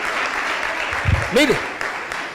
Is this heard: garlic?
no